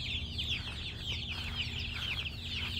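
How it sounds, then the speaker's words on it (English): Chickens cluck and chatter steadily in a busy flock, a continuous close-up stream of clucks with no talking. "Y'all, look at all the chickens."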